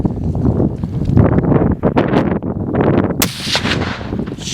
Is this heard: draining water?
no